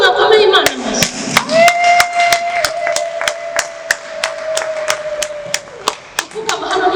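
Applause from a church congregation, a run of sharp, fairly loud rhythmic claps that carries on over a sustained tone.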